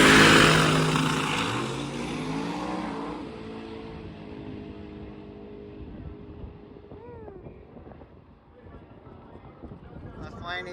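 Drag race car accelerating down the strip during Rocky Mountain race week, a loud roaring launch that sweeps upward and fades into the distance, followed by crowd ambience and talk over it.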